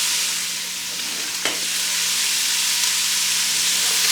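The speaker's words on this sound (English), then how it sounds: "Get our wooden spoon and stir that up a little bit." Potatoes and onions sizzle steadily in a pan while a wooden spoon stirs them, one brief scrape near the middle standing out over the constant close frying hiss.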